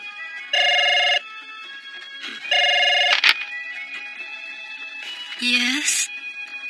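A telephone rings in short repeated bursts of bright electronic bell tone, two clear rings followed by a clack as the receiver is lifted, with a voice coming on at the end.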